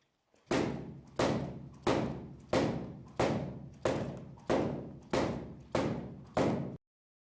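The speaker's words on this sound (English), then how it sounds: "Splitting on the fixed target." A weapon splitting down onto a fixed training target in martial arts practice, ten evenly spaced heavy thuds at a steady rhythm, each ringing briefly before the next, close and clear with no voices.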